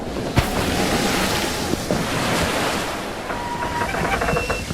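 Storm wind and crashing sea waves form a dense, roaring wash in a theatrical rendering of a ship caught in a tempestuous headwind, loud and continuous with faint creaks and thuds rising above it.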